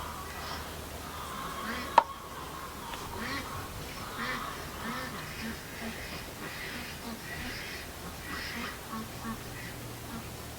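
Ducks quack in scattered bursts at moderate distance over a low background hum, with chickens also present and one sharp knock near the start.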